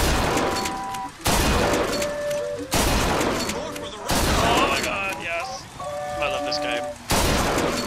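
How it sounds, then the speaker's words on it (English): A shotgun in BioShock Infinite fires about five sharp, loud blasts spaced a second or so apart, each cracking abruptly over background music and game effects. "Shotgun is so satisfying."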